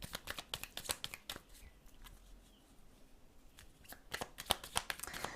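Oracle cards shuffled by hand, heard as quick, crisp riffling bursts in two close runs separated by a quieter pause, with no other sound.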